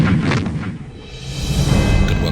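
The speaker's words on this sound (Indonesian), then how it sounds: "RI Macan Tutul dan RI Macan Kumbang melepaskan tembakan dari 2 meriam anti pesawatnya." Twin anti-aircraft cannons aboard the warships RI Macan Tutul and RI Macan Kumbang firing during the naval battle of the Arafura Sea: deep rumbling booms rolling continuously, heavy low-end thunder with no voices.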